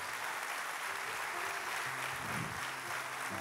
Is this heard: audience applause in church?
yes